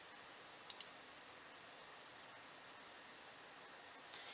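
Two quick, faint computer mouse clicks in close succession, then near silence over a soft hiss of background noise.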